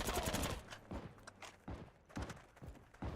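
Gunfire in a first-person shooter game featuring the PPS-43 submachine gun, heard as quick bursts of sharp shots and thumps in irregular groups across the moment, fairly close and fairly quiet overall.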